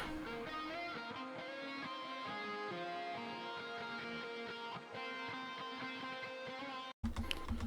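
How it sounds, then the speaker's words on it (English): Electric guitar lead washed in delay and shimmer reverb over a dense, steady backing mix, playing continuously before a brief cutoff and restart near the end. "in the post effects, we are running some delay and reverb with the shimmer on"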